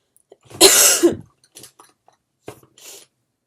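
A single harsh cough bursts out close by, followed by a few softer throat sounds and a brief breathy rasp.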